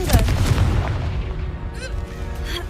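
Confringo blasting spell detonating in Hogwarts Legacy, a sharp booming burst up front followed by crackling debris and a fading rumble, fairly loud and short.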